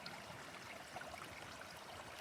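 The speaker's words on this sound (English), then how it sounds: "you got some of these babbling brooks" A babbling brook in wooded forest along the Dockery Lake Trail near Suches, Georgia, gives a faint, steady, even wash of flowing water throughout, with no other sounds.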